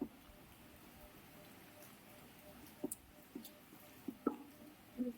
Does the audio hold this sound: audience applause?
no